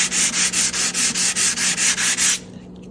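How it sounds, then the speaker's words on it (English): Steady back-and-forth sanding strokes on a painted wood cabinet, about a dozen even rhythmic passes, close and loud, then stopping abruptly into quiet. "You got to keep sanding this out until"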